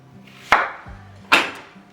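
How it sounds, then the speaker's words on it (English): Two sharp knife chops into an onion on a cutting board, cutting it into quarters for a crockpot pot roast, each a crisp thwack spaced under a second apart, close and clear. "Then I'll take my onion and I'm just gonna quarter that thing."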